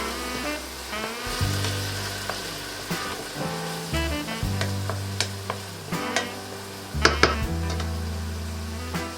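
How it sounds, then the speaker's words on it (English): Vodka sizzling in a hot pan while pasta alla vodka is cooked, with a steady frying hiss broken by repeated low scraping strokes of stirring and a few sharp metallic clinks of utensil on pan. "Now I'm gonna add the vodka, and let's cook out the alcohol"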